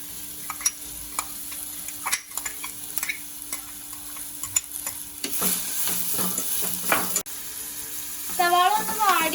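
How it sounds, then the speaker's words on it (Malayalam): Sliced onion being stirred and fried in a clay pot for a prawn roast, with a steady sizzle, spoon scrapes and stirring clatter, louder and busier in the second half. "സവാള ഒന്ന് വാടി വരുന്നവരെ നമുക്ക് ഇളക്കി കൊടുക്കാം"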